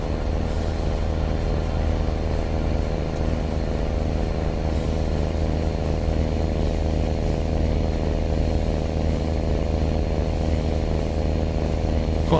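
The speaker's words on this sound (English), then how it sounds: "Quite a loud engine though." A truck engine in American Truck Simulator roars loudly and steadily, a deep droning rumble with a faint high whine rising slightly, running alone without talk.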